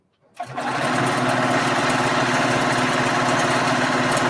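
A straight-stitch sewing machine starts up after a moment of quiet and then runs at steady speed, a close, continuous mechanical whir while sewing binding onto a quilt.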